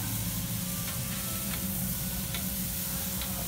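Noodles deep-frying in oil, a soft steady sizzle and bubbling heard up close and alone, with a few faint clicks over it.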